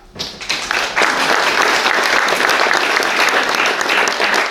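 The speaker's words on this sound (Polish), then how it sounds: "proszę o brawa" An audience at an exhibition opening of caricature art breaks into applause, swelling quickly after a brief start and holding as a dense, even wash of clapping throughout.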